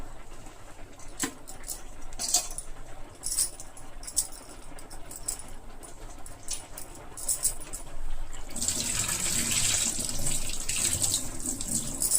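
Tender tamarind leaves are washed at a sink. Scattered clinks and handling noises come first, then running tap water gushes loudly and steadily for the last few seconds.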